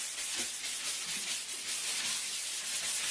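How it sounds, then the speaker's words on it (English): A sanding sponge is rubbed back and forth over a painted surface to scuff it before the next coat, a steady, close, rasping scrub with regular strokes and no talking. "I kind of like these sanding sponges though. They're real nice, they move quickly, they're great for getting in little edges."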